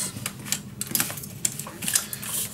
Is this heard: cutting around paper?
yes